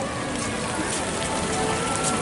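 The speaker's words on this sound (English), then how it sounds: "It is raining." Steady rain falling on an outdoor theme park in Paris, Disneyland, a dense continuous patter and hiss throughout, with faint crowd voices mixed in.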